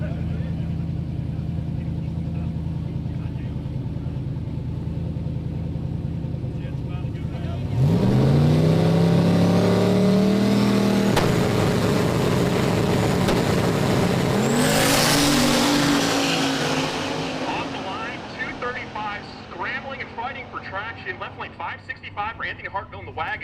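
Drag racing cars, including a Chevy II Nova on 235 radials, roar down the strip with rising engine pitch and a second loud pass, under ongoing commentary and crowd noise.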